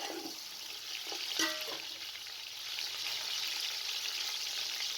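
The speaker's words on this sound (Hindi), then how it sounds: "गोश्त को डालकर तकरीबन 2 से 3 मिनट तक अच्छी तरीके से फ्राई कर लेना है।" Beef pieces frying with browned onions in hot oil, a steady bright sizzle filling the scene, with a few sharp clinks of a utensil against the pan near the start.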